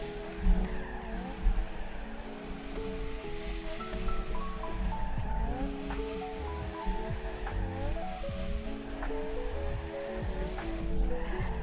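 Car drifting in the Torque Drift 2 racing game, engine revving steadily with tire squeal and skidding, continuous and loud throughout with rising and falling pitch.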